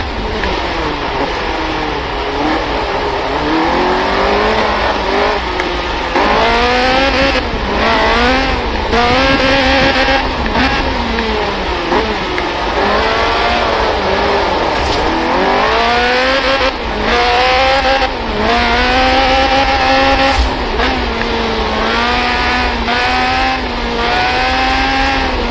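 A Lotus Sunbeam with a 2.2-litre slant four-cylinder engine racing in Forza Horizon 4, its loud engine revving up and down through repeated gear changes over a steady road roar, heard alone.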